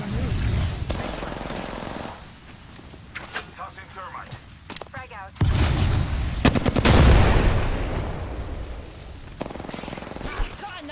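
Enemy gunfire in Apex Legends, with bursts of automatic shots coming and going amid game noise, louder near the middle, while a player talks between the shots.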